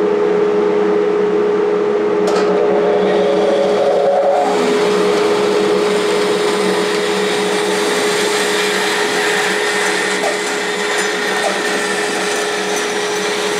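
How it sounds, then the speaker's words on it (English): A bandsaw cuts out a salvaged split wooden platter, giving a steady, loud mechanical whine and hum that holds nearly unchanged for the whole stretch, with a brief sharper burst early on. "Then I go with the bandsaw and cut it out."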